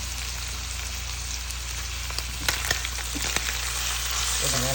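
Fish frying in a pan with scotch bonnet peppers and tomatoes for a Jamaican dish, a continuous close sizzle with scattered pops and a few stirring clicks, louder toward the end.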